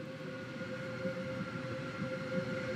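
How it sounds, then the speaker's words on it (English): A Roblox Stepford County Railway train of five coaches rumbles steadily at a station, a continuous low hum with a faint rhythmic clatter of wheels and no talk. "This train is formed of five coaches."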